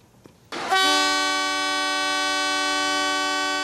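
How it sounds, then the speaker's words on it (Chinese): A Taiwan Railway train sounds its horn in a memorial salute for a driver who died on duty, a loud sustained horn blast starting after a brief quiet moment and holding steady to the end. "全台一百七十九架列车，不管是进站到柜台，或者是行到半路啊，全部拢同齐起喇叭"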